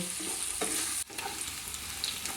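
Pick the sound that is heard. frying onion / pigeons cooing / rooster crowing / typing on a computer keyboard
frying onion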